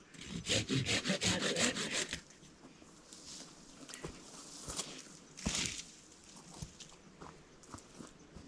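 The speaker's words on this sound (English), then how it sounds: "if you've never used one of these saws, they cut like a baby chainsaw" A Katanaboy folding hand saw rasps through wood in fast, rhythmic strokes for about two seconds during trail clearing, followed by scattered knocks, shuffling and handling noises.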